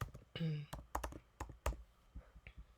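Quick, light keystrokes on a computer keyboard click in an uneven burst close to the mic, with a brief voice sound partway through.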